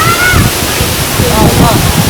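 A waterfall at Curug Bidadari, a loud, continuous roar of rushing and splashing water that fills the whole scene evenly, with faint voices barely surfacing beneath it.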